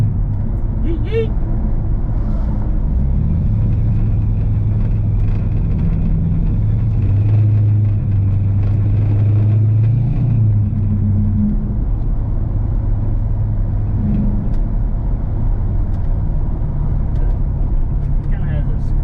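A 1981 Chevrolet C10 truck engine runs with a steady, loud exhaust drone that rises in pitch at higher revs, close by, with people talking over it.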